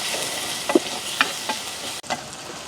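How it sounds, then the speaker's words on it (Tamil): Curry leaves, garlic, onion and green chilli fry in a pan in a village kitchen, a steady sizzle broken by a few spoon scrapes and knocks as they are stirred, close and moderately loud with no talk. "அதோட கருவேப்பிலை இப்படியே நல்ல வடிவாக பிரட்டி விடுவோம்"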